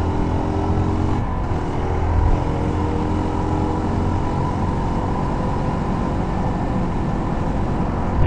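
Motorcycle ride on a road in Switzerland: a continuous, even roar of engine and rushing wind, loud and close throughout with no voices.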